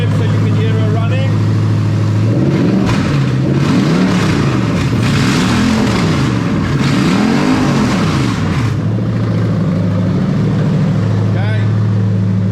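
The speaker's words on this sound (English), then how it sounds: "So I'm going to give her a quick rev so you can hear her running." A Lexus LS400's 1UZ-FE VVT-i V8, fitted with a plug-and-play harness in an IS200, idles steadily, then is revved in several rising and falling sweeps before settling back to idle, close and loud.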